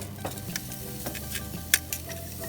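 Steady close sizzling of pork chops cooking on a hot grill over mesquite chunks, a continuous crackling hiss with occasional sharper pops and no talking.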